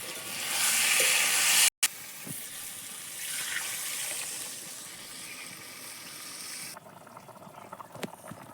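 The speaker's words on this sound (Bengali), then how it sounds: "মশলা কষানো থেকে তেল ছেড়ে দিয়েছে এবার জল দিয়ে দেবো" Water poured into a pan of sizzling fried spice paste for an egg curry cooked over a wood-fired clay stove, giving a loud hiss that settles into a steady bubbling sizzle, broken by a brief clatter near the end.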